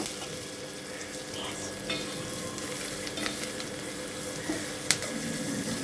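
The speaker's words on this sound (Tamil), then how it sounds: "வெங்காயம் வதங்குறப்பே கொஞ்சம் உப்பு போட்டுக்கலாம். இன்னும் கொஞ்சம் நல்லா வதங்கும்." Onions sautéing in a pan crackle with a steady sizzle, broken by occasional scrapes and clinks of stirring, all close and alone without speech.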